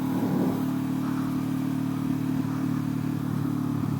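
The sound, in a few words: motorcycle riding past a winery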